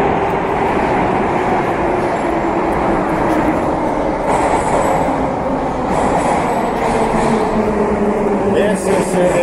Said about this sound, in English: Belaruskaya metro station.